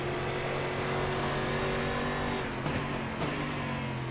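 A stock car's engine drones steadily at high revs in the racing game Automobilista. The loud, even tone shifts briefly in the middle with a couple of quick gear-change blips. No voices.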